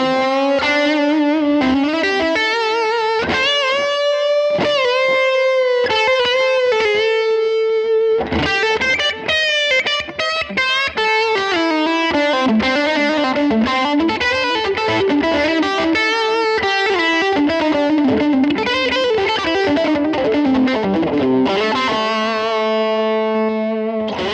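An electric guitar played through a Line 6 Helix overdrive with the gain mod turned up gives a compressed, distorted tone, with sustained notes and quick melodic runs ringing out continuously and alone.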